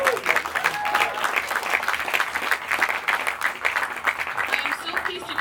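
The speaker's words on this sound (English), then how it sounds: "Let's give them a round of applause." An audience applauds at a ribbon cutting for the grand opening of Glazer's Beer and Beverage in Westlake, with dense, sustained clapping from a crowd that holds steady throughout.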